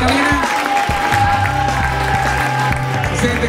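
An audience at a beauty pageant applauds, with sustained loud clapping from a crowd as a voice speaks over it.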